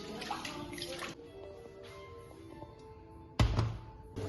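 Squid tentacles from Sakhalin rinsed under a running tap, water splashing and gurgling steadily at close range with a sharper burst of flow near the end.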